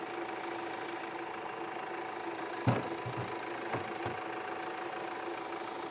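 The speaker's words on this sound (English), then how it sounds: "Nice little 4-cylinder engine." An Audi Q5 four-cylinder engine idles under the open hood, a steady low hum with a faint ticking and a few soft clunks partway through, heard up close.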